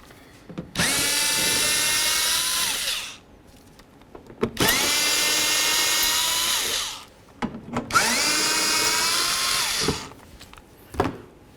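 A power drill removes three 5.5 mm screws behind the front bumper of a 2007-2014 Ford Edge, in three loud whirring bursts of about two to three seconds each, with short pauses and clicks between them.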